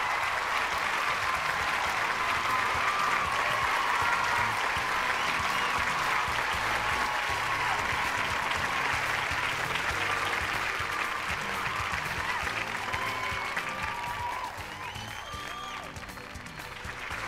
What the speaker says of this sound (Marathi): आणि या टाळ्या अशाच वाजत राहिल्या पाहिजेत